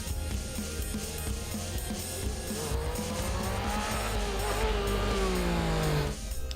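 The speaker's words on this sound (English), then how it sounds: "And of course there's that rasping soundtrack which is beautiful at speed, but the exhaust is a bit too quiet around town and all you can hear is the engine whine." Yamaha MT-09 three-cylinder engine and exhaust at speed, a loud continuous rasping drone with rising and falling pitch as revs climb and shift, heard alone with strong wind rush.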